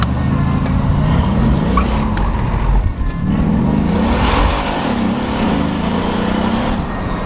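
A tuned Mercedes C63 AMG engine revs hard at full power, a loud, close roar whose pitch climbs and dips repeatedly as it accelerates, with no talk.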